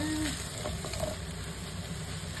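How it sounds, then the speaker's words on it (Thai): Fingerroot (krachai) stir-frying in a pan for a fish curry noodle sauce, a faint low sizzle with light stirring and a few small clicks, quiet and close. "กระชายผัดไปด้วยครึ่ง เดี๋ยวใส่กระชายค่ะ ผัดไป เข้ากันนะคะ"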